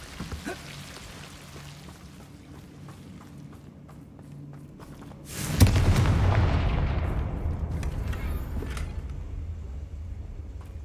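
A Confringo fire spell in Hogwarts Legacy erupts as a sudden loud fiery blast that fades slowly, following quiet ambient game sounds and faint footsteps.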